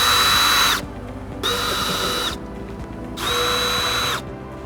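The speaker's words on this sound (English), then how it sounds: "with the glove box open, you're going to have 3 screws to remove" A cordless drill whirs in three separate bursts, each lasting about a second, as screws come out of the dashboard under the open glove box of a Toyota Tundra; the sound is close and loud, with short pauses between bursts and no talking.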